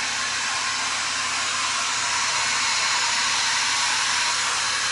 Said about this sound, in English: the heat gun works a lot better to spread the colors because you don't have to worry about burning the epoxy